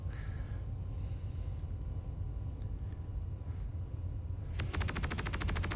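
The mounted gun on the Anvil Valkyrie dropship opens up in a rapid, evenly spaced automatic burst that starts abruptly near the end, over a constant loud engine-like rumble throughout.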